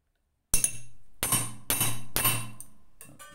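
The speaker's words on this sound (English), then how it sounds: "So I use a very old 26-ounce hammer," An old 26-ounce hammer strikes riveted maille links to flatten them, giving four sharp metallic blows with ringing decay, spaced roughly half a second apart, close and loud, followed by a fainter clink.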